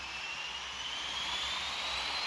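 An aircraft engine in a flight simulator game drones as a steady, even jet whine with a slowly rising pitch, continuous and fairly close, with no speech.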